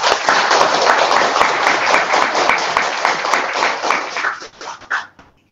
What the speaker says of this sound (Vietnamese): Xin cả nhà chúng ta cùng dành cho họ một tràng pháo tay được không ạ?